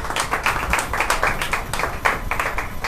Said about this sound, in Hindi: हमें जोरदार तालियां।